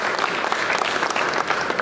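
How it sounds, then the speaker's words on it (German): Audience applause for a team of young men about to compete in a straw-bale pressing and loading contest at an agricultural championship at Agritechnica 2017; steady, dense clapping throughout, fairly loud. "Ein Applaus bitte"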